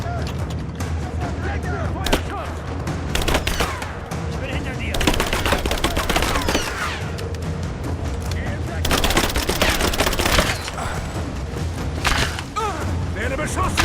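Dense bursts of automatic gunfire and rapid shots from the video game Rise of the Tomb Raider rattle almost without pause, and a voice talks over them now and then.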